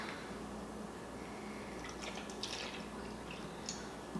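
Milk pours into a Nutribullet blender cup as a faint, continuous trickle with small splashy drips, quiet and close.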